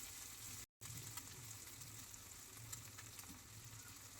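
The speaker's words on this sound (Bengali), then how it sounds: "ঠিক এইভাবে ডিমটাকে ভালো করে ভেজে নিচ্ছি" An egg frying in a pan with salt gives a soft, continuous sizzle with occasional light stirring, quiet and close. The sound cuts out completely for a moment near the start.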